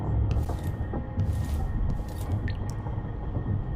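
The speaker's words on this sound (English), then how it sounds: "Can I hear water?" Water dripping in the video game Dishonored 2, with soft wet drips and squishy splashes over a low, rumbling ambient drone, moderately loud and steady.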